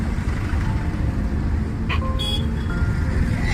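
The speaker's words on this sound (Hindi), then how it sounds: "आगे ट्रक चल रहे हैं, पीछे ट्रक चले हुए हैं।" Trucks and cars driving on a rough road under construction, a steady close engine and road rumble throughout, with a brief higher clank partway through.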